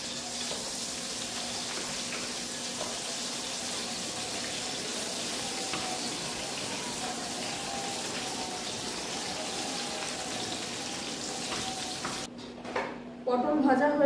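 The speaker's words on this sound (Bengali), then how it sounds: "তেল গরম হয়ে গেছে, দিয়ে দেবো পটল।" Pieces of pointed gourd (potol) fry in hot oil in a kitchen pan, making a steady, moderate sizzle throughout. Near the end it turns into a brief clatter.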